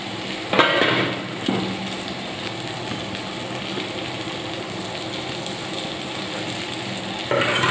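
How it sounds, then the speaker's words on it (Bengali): Ginger paste added to potatoes and bay leaf already frying in oil in a pan, a steady loud sizzle throughout with a sharp burst of hissing as the paste hits the hot oil and occasional stirring scrapes. "এটার মধ্যে আমি এবার একটু আদা দিয়ে দেবো, আদা বাটাটা।"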